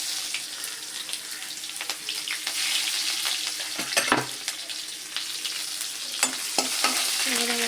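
Garlic and onion sizzle in hot oil with crackled mustard seeds, fenugreek and cumin for a drumstick kara kuzhambu, a steady close frying hiss with scattered spoon scrapes and clicks throughout.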